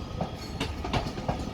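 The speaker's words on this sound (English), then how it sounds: "Arriving now is two trains." Two trains roll into Manchester Piccadilly station, a 331 and a 323, their wheels beating a steady clickety-clack rhythm over rail joints, close and continuous with no voices over it.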